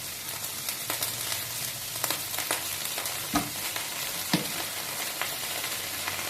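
Thai mixed vegetable soup (tom chap chai) coming to a boil in a pot, a steady hissing, bubbling texture with scattered soft clicks and a brief knock, close and continuous with no talking.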